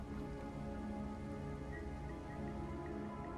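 Steady rain falling in the Wuthering Waves game, a dense, even wash of drops heard close and continuous with no talk over it.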